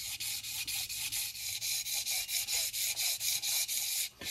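An abrasive strip is pulled back and forth around a crankshaft bearing journal on a budget 318 Mopar engine build, making quiet, rapid, rhythmic rubbing strokes, roughly four a second, with a brief pause near the end.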